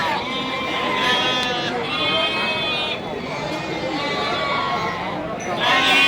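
Goats bleat repeatedly at Pasar Wage livestock market in Bumiayu, a wet, muddy open-air market after rain; loud, near, overlapping cries with steady crowd murmur and talk underneath.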